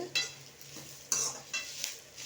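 Mint leaves are stirred and sautéed in a hot pan: a few distinct scraping strokes of a spoon over a soft, steady sizzle, close and alone.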